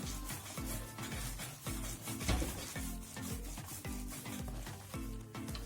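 Hands knead and squeeze a meatless Diyarbakır-style çiğköfte mixture worked with tomato juice, making steady rhythmic wet rubbing and squishing strokes that stay close and fairly loud throughout, with no talking.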